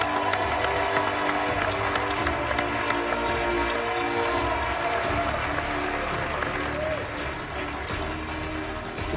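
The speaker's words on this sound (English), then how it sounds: "here to cheer you on are all of your past competitors that you beat to get into this finale" Past MasterChef competitors applaud and cheer for the finalists at a cooking competition finale, a sustained, close wash of clapping that carries on throughout.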